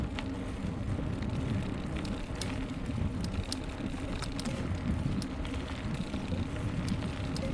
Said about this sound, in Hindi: आपको देखो साइकिल का भी साउंड सुनाई दे रहा होगा, उनके टायरों का